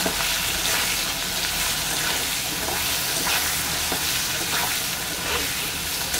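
Frying in a pan while cooking a shrimp and Malabar spinach curry: a dense, steady sizzle runs unbroken and close throughout, with small crackles and spits scattered through the hiss.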